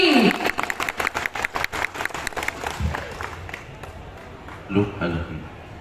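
Audience applause at Dum Dum Utsav 2024, a municipal cultural festival: a burst of clapping from the crowd in the first few seconds, tapering off, with voices and hall noise around it.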